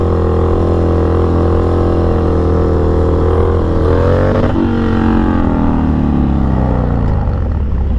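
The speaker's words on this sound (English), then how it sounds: "it's definitely probably my longest Harley wheelie ever" Harley-Davidson Dyna FXDX motorcycle engine roaring loud and steady during a long wheelie, the pitch rising and then falling away near the end, with heavy wind rush.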